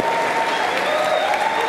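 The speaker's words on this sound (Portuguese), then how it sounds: "Dá uma salva de palmas pra gente." An audience applauding a couple's tenth wedding anniversary during a talk: a loud, continuous wash of clapping from a large crowd, with a faint sustained tone running underneath.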